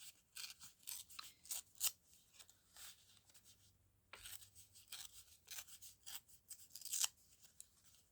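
Paper being torn by hand for a collage, a series of soft, close ripping and rustling bursts of varying length with short pauses, quiet overall.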